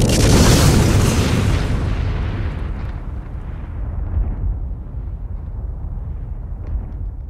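A deep, rocket-like boom in a video game erupts loudly at the start and rolls into a long, low rumble that slowly fades, with no one talking.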